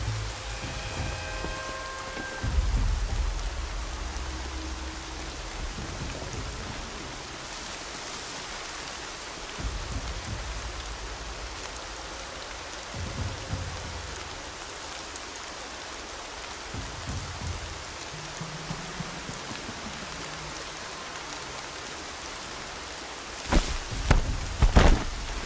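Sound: rain in a video game

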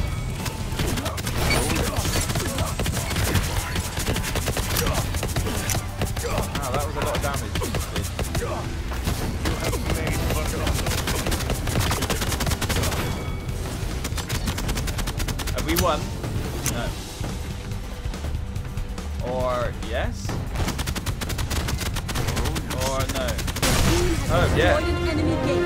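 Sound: sentry gun firing in video game Paladins

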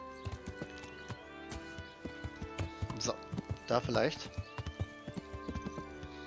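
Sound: horse hooves clip-clopping in video game

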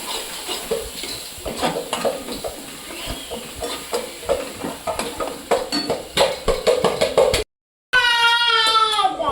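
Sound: frying ground onion-coconut masala paste in a pan

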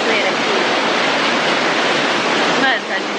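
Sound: waterfall in Peru

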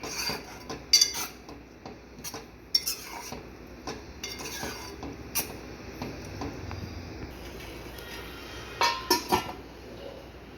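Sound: stirring onion tomato masala in a cooking pan

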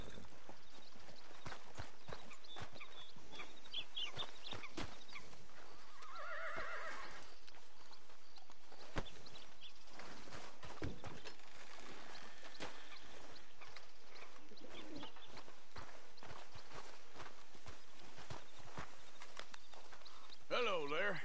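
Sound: horse neighing and hooves, video game

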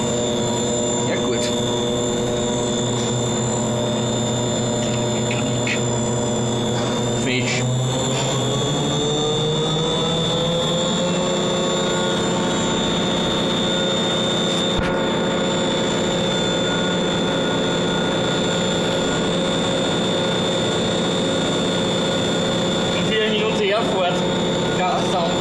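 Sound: Kaiserlift elevator running on its emergency drive

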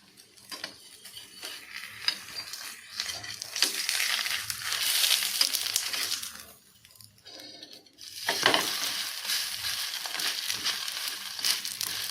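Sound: paratha frying in a pan

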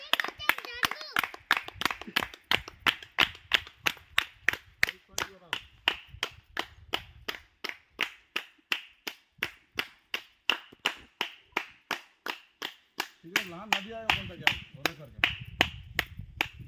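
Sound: hand clapping beside water

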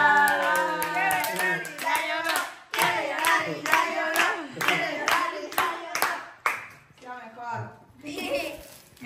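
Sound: family clapping hands

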